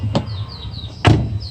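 A Volkswagen Jetta door handle carrier is worked by hand after the screws are bolted down, giving two sharp mechanical clacks about a second apart, close and fairly loud, with no talking.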